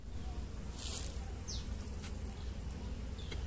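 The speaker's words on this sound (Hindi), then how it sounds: "मधुमक्खियों का काम हो रहा है।" Honey bees buzz around rows of hive boxes at a beekeeping yard, a steady faint drone running throughout with a few sharper passes of individual bees close by.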